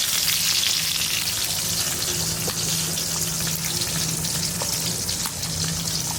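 Cauliflower fries in hot oil in a pan for khichuri, a loud, steady crackling sizzle that holds evenly throughout with faint stirring underneath.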